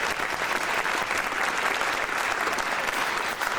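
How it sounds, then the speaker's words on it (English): A high school jazz night audience breaks into sustained applause, a thick, even roar of many hands clapping at a steady level throughout, with no talking over it. "Let's give a round of applause to all the people in BOPO who helped"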